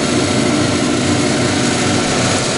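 A Clausing 6903 14-inch lathe turns a workpiece with a three-cornered carbide tool, giving a steady, loud, continuous machining drone with a grinding hiss that holds unchanged throughout, no voices.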